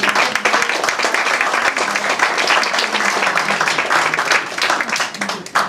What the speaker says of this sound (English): Big round of applause for Uncle Ernie